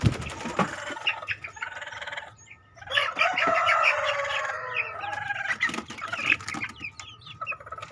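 Rooster crows loudly and clucks nearby in a series of drawn-out calls and shorter clucks with brief pauses, against faint low background noise and no talk.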